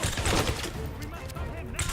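Covering fire rattles in James Bond 007: Blood Stone, dense overlapping gunshots and bursts mixed with battlefield noise and shouted voices, loud and close across the whole stretch.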